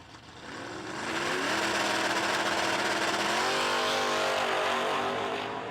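A '78 Malibu drag racing a Mopar at a no-delay drag strip event, engines roaring loud and sustained as they launch and pull hard down the track, a steady dense blare with rising tone and no talking.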